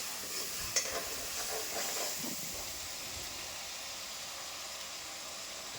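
Onions frying in a pan while being stirred, a continuous soft sizzle and hiss with a few scraping stir sounds early on, close but quiet, no talking.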